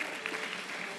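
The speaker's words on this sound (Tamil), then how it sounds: "நல்லா கைத்தட்டி ஆண்டவரை மகிமைப்படுத்துங்க" Congregation clapping hands together during a church miracle healing service, a dense, steady wash of applause that holds at an even level throughout with no pauses.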